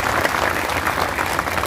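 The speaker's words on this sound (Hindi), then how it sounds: "जोरदार तालियां उन लोगों के लिए।" A large audience claps in dense, sustained, loud applause at a public gathering, steady throughout with no voices standing out.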